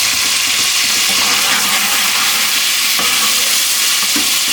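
Whole spices crackling in hot oil, a loud, steady hiss of sizzling right up close with faint clinks of stirring underneath.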